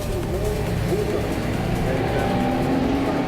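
Supercar Challenge race cars at the start of race one at Assen, engines roaring together in a loud, continuous, close-up rush with shifting revs throughout.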